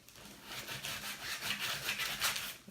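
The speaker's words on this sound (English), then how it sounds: "I'm going to take a little bit rougher sandpaper and I'm going to handle that edge a little bit with it" Rough sandpaper rubs along the edge of a painted wooden sign in quick, close back-and-forth scratching strokes, steady and raspy with no talking.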